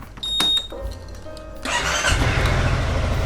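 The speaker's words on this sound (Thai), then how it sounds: "เดี๋ยวผมลองสตาร์ทรถ" A Honda Forza 350 scooter is started after a couple of beeps and clicks, its engine turning over and settling into a steady, close idle.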